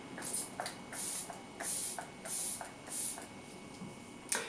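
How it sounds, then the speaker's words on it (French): A coconut hydrating face mist spritzes in a series of short, bright hisses, about five evenly spaced puffs followed by a faint final one, heard close and fairly quiet with no voice. "C'est un spray hydratant pour le visage à la noix de coco."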